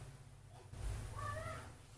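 A cat gives one short, tonal meow partway through, fairly faint over a low steady rumble, with no talking.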